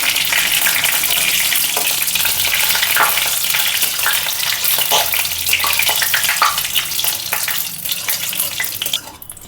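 Sugar caramelizing in hot oil with cumin and bay leaf sizzles loudly and steadily, with scraping stirs over the hiss throughout, for a cabbage curry with fish head; no talking.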